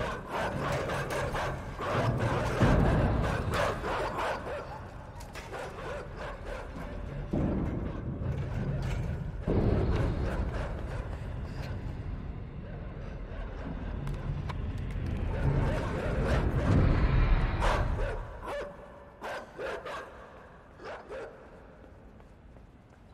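Vicious dogs in the video game Inside bark in repeated sharp bursts that come in clusters over tense game sound, with a voice talking at times in the background.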